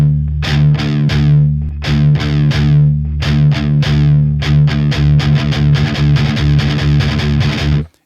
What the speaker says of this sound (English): We'll be going over some up down picking, gallops, and that's just down, up, down, down, up, down.